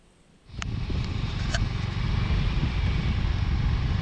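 A borrowed motorcycle on the road during an anniversary trip, its engine starting up abruptly and settling into a loud, steady rumble with wind noise, heard close and continuous for several seconds without talk.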